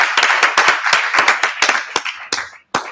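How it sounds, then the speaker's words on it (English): A small audience at a legal tech panel claps for the panelists, distinct separate handclaps from relatively few people in an uneven rhythm that tapers off with a few last claps. "Let's give them all a big round of applause."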